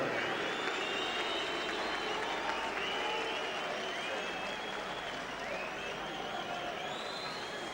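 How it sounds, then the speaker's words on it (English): A boxing arena crowd at a European Union light welterweight title fight keeps up a dense, continuous roar of booing mixed with scattered applause, loud and sustained. "I'll wager he could hear the booing. And some smattering of applause for Witter"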